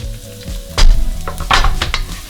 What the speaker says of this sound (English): the pan is ready, it's hot. Add your garlic, shallots,